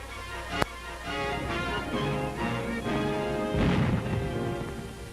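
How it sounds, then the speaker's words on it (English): Fierce WW2 artillery fire from Dutch batteries shelling bridges, heard as a dense, continuous rumble of booms and crashes with one sharp blast near the start and a heavier burst later on. "By fierce artillery fire, Dutch batteries are still trying to destroy the bridges"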